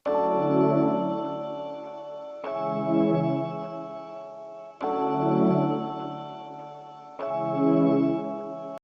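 A mellow, lo-fi West Coast hip-hop loop with warm Rhodes electric piano chords over a soft beat, repeating in four even phrases, no voices.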